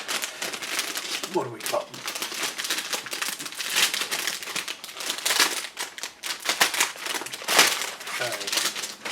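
Parts from an ICM 1/72 Fw189C/V-6 plastic model kit are handled and unwrapped from their bags, giving a steady run of close crinkling and rustling of plastic wrap while someone talks briefly.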